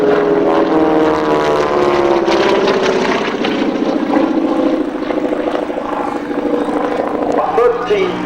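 Aerobatic airplane powered by a 1,340 cubic inch, 600 horsepower radial engine drones overhead with a loud, steady propeller roar and rising and falling pitch, while someone talks over it.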